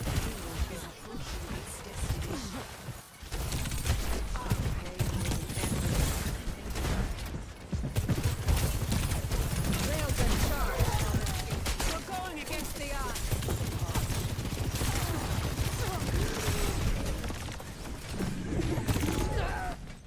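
Rapid gunfire from an Overwatch match, fired at Mei's ice block, rattles continuously and loudly through a dense, busy mix of game effects with voices in the background.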